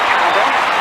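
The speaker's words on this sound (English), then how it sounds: "the crowd will react to that quite rightly" Stadium crowd at the London 2012 Olympics roaring and applauding after an athlete's attempt, a dense, steady wash of cheering and clapping that fills the whole moment without a break.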